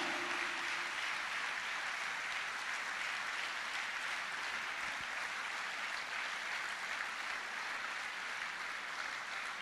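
A church congregation applauds at an evening service, a steady, full round of clapping from many hands that fills the room and carries on for several seconds without letting up.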